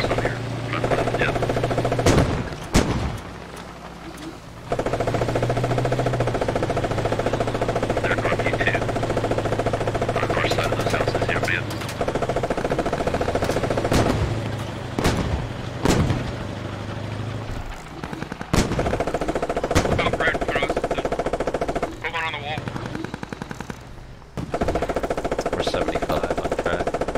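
Bursts of M240 7.62 mm machine gun fire from a tank in a combat video game, loud, repeated volleys over a steady engine rumble, with brief pauses between firing stretches.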